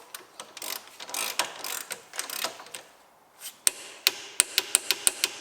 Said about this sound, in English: you literally then just want to tighten it until you get that click